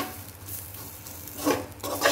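Spices are stirred in a frying pan, where a low sizzle runs underneath and a few scraping strokes with a utensil rise louder toward the end.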